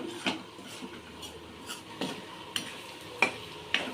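A spoon scrapes and stirs chicken frying in a pan, making soft, intermittent clinks and scrapes over a quiet sizzle, heard close and without any talking.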